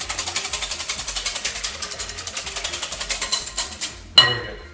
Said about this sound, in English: We get our whisk our eggs, whisk it all together.